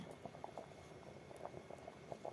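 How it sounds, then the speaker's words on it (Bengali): Rice boiling in a pot on a wood-fired stove, a faint, quiet bubbling with soft irregular pops and gurgles over a low background hiss. "ভাত ফুটছে"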